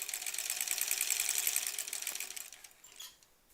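Domestic sewing machine running steadily while stitching a granny squares quilt, a dense rapid whir that carries for about two and a half seconds, then stops and leaves a few faint clicks.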